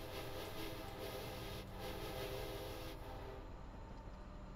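A train climbing Sullivan's Curve on Cajon Pass produces a steady, dense rumble with tonal engine drone, heard from on board, loud and continuous without talk.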